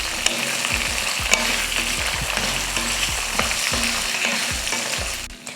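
Tomato and a small piece of tamarind sauté in a pan for chutney, giving a steady, close sizzle with repeated scraping stir strokes, no talking.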